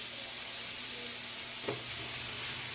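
Cabbage for Jamaican stir fry hits a hot pan on a stove set to 6, giving a steady broadband sizzle with a brief sharper burst partway through as it lands.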